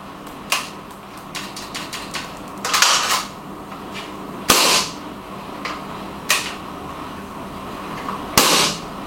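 A GHK AK74MN airsoft rifle fires nearby in sharp, loud cracks: single shots alternate with quick short bursts, separated by brief pauses and a faint room hum.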